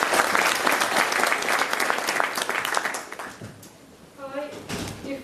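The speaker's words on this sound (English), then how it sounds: "big round of applause, thank you for Ruth." Audience applause from a privacy talk event crowd, dense clapping for several seconds that thins and fades out, with a voice beginning to speak near the end.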